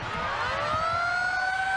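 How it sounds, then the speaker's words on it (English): A rising, wailing half-time siren at a 2003 rugby league match between Penrith and the North Queensland Cowboys, swelling and holding steady over a continuous crowd roar. "And there goes the siren in the background as Howland returns the football"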